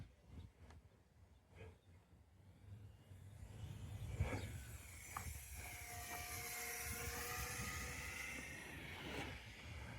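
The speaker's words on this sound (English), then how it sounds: "Let's do a rudder turn into a low pass here." A 400mm RC plane swoops in on a low rudder-turn pass, its small electric motor rising to a thin whine that swells and shifts in pitch as it nears, then holds fairly loud outdoors.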